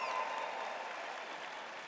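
A live studio audience at a tech podcast taping applauds, a dense, even wash of clapping that holds steady and eases slightly toward the end.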